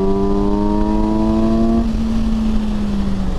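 A 2021 Kawasaki Versys 1000 LT SE+ sport adventure touring motorcycle accelerating on the road, its engine note rising steadily in pitch then settling into a smooth sustained drone under constant wind rush.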